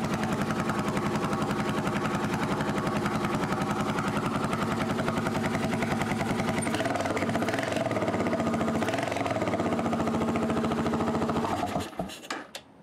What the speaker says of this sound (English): let me start the bike up and I'll let you listen to it.